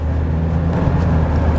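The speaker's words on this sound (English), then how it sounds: "It's just the engine noise you hear." Steady engine drone from a Ford Ranger Wildtrak pickup with a 6-cylinder engine and automatic gearbox, heard from inside while driving on the road: a continuous low hum with no talk.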